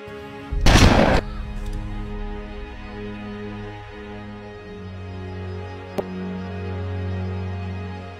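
A single loud gunshot-like blast rings out, followed by a low sustained rumble and a faint sharp click later, with no talking.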